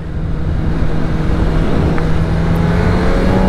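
BMW M1000R Competition motorcycle under way, a loud close engine drone with a steady low tone, wind rush over the whole stretch, no voices.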